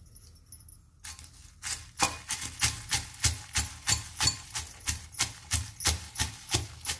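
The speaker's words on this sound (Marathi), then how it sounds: "आता शेंगदाणे पण घेते भाजलेले आणि जाडसर कुटायचं" Rhythmic pounding of roasted peanuts in a mortar, crushed coarsely, after a quiet start: about fifteen regular, thudding strikes with a crunchy edge, close by.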